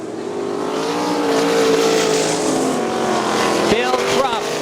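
Sprint cars race on a dirt speedway, their engines a dense, loud, sustained roar as the pack circles, with a commentator talking over the noise.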